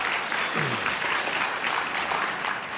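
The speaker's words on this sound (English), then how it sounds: "you shouldn't applaud and cheer him on that way" Studio audience applause on a 1976 television game show, a dense steady patter of many hands clapping throughout, with a brief voice briefly rising over it.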